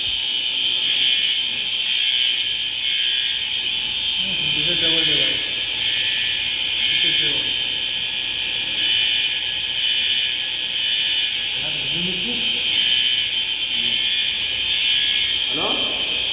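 A smoke detector on a Cooper fire alarm system sounds during a test with a loud, continuous high-pitched electronic alarm tone, while faint voices talk at a few points beneath it.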